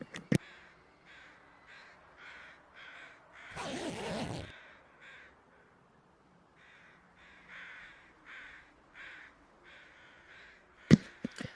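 Crows caw repeatedly in a video game, a rhythmic series of harsh calls over quiet ambience, broken by a loud burst of noise partway through and a sharp knock near the end.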